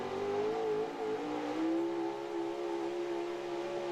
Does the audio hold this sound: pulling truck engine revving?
yes